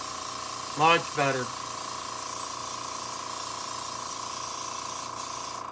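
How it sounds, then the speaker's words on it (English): An aerosol can of primer sprays evenly once its clogged nozzle has been cleared, coating miniatures. The hiss is steady and sustained at close range, after a short spoken remark at the start. "You should be able to see the spray leaving the nozzle."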